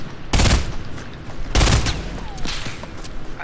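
Sniper fire in Fortnite: two loud, sharp shots about a second apart, each with a brief booming tail, followed by quieter game noise.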